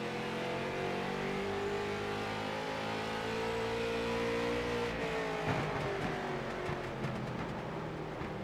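Race cars circle the Thompson short track in a tight pack, their engines droning and revving steadily at mid distance before one lifts off the throttle and the pitch drops, followed by rougher, choppier engine noise.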